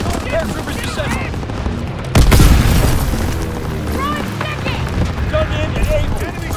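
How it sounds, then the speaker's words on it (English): Anti-aircraft bursts in a Call of Duty match on the Shipment map, a heavy boom followed by continuing gunfire and blasts under spoken radio-style chatter. "Anti-aircraft bursts commenced."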